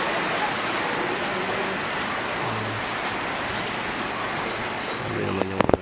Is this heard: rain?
yes